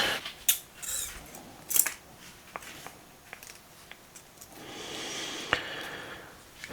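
A thin metal strip for a spot welder is snipped with a short run of crisp cutting clicks and snaps, close and fairly quiet, followed by a softer rustling stretch.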